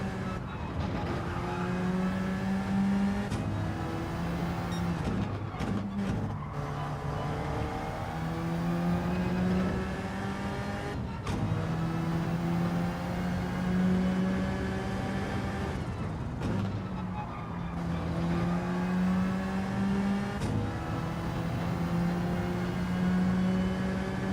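A race car engine in Gran Turismo 7 drones steadily throughout, its pitch climbing and dropping as gears shift, loud and continuous with no voices.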